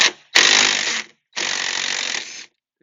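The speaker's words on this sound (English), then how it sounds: "Take the one bolt out, be steady. Take the other bolt out." Power tool or ratchet driving out a bolt from the back glass of a Jeep Wrangler JL Sky One-Touch roof, two loud close bursts of whirring, the first short and the second longer, separated by a brief pause.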